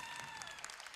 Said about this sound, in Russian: Қол шапалақлар болсын, аплодисмент.